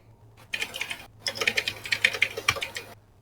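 Rapid clattering on a computer keyboard nearby, two short bursts of keystrokes separated by a brief gap, irregular taps in quick succession with no voices.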